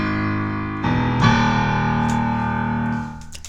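Dramatic orchestral leitmotif for the opera character Kaikobat, with sustained harmonic chords that swell in after the opening and hold steady before easing off near the end, no voices.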